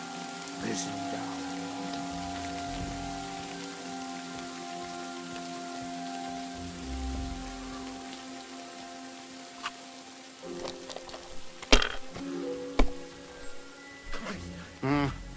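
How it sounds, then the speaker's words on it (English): Soft, steady rain falls in the medieval video game Kingdom Come Deliverance 2, a quiet continuous patter, later joined by a few sharp clacks and knocks, with talk nearby. "Rain again."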